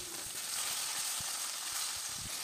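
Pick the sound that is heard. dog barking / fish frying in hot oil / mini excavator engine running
fish frying in hot oil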